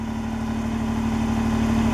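A Kubota BX23S compact tractor engine idles steadily, a continuous even hum with a constant low drone and no voices over it.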